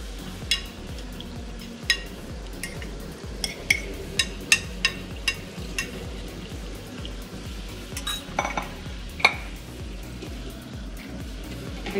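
Egg curry cooking in a pan with water added, stirred over a low flame: steady sizzling and bubbling with scattered clinks and scrapes of a utensil against the pan, close and continuous, no talking.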